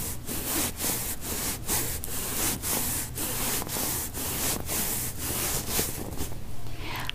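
Steady rhythmic rubbing strokes close to the microphone, about a dozen even swipes with brief pauses between them, dense and fairly loud, with no voice.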